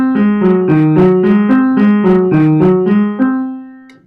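A piano played with the left hand alone, a repeated C in measure 68 during a lesson, sounds in even, close, clear notes for about three seconds and then rings out and fades.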